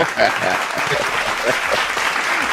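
Crowd applause fills the whole moment, dense and steady, with cheering and voices mixed in.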